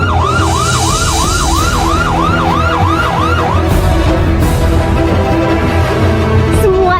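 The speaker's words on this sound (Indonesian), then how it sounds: "Kalian dengar sirene di luar itu?" Wailing police sirens sound outside, a rising-falling whoop repeating steadily before settling into a long sustained tone, loud and continuous over a steady background rumble.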